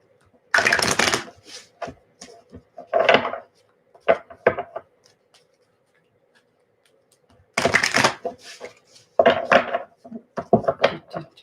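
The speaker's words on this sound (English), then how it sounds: "So let me shuffle these cards" Tarot cards shuffled in two separate bursts of riffling and soft papery slaps, each followed by a few sharp taps, with a quiet pause between them.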